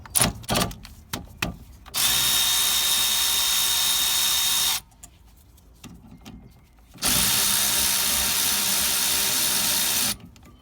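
A power tool whirs loudly in two long runs while undoing the bolts on a Honda Civic Type R rear brake caliper, with a few short clicks and taps beforehand and a pause between the runs.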